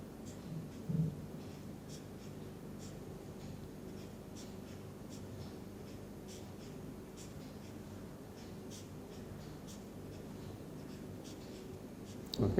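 Pen or marker writing by hand as a molecular orbital diagram for the O2+ ion is drawn, a soft steady scratching with small strokes throughout, alone with no talk.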